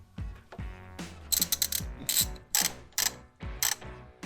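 A ratchet clicks in quick bursts while a plastic coolant drain plug on a Volvo XC90 is snugged back down, close sharp metallic ticks in irregular groups with brief pauses, no talking.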